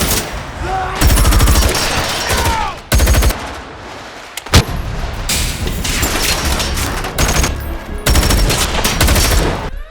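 Heavy gunfire from a film shootout in Wrath of Man, with rapid automatic bursts and loud single shots filling most of the stretch, broken by short lulls, plus crashes and booms.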